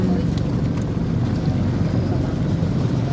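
A boat with its roof lowered passes beneath a bridge on an island, a steady low engine rumble with wind noise running continuously and fairly loud throughout.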